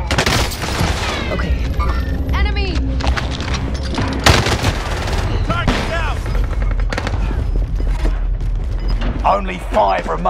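Dense, continuous gunfire from a battle royale video game: rapid automatic bursts and single shots layered with booms and mechanical clatter, loud and close, with game voice lines and effects mixed in.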